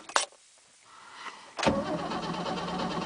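Cold start of a 1967 Mercedes car with a propped-open choke: a short cranking burst, a pause, then the engine catches and settles into a steady, close, fairly loud idle rumble.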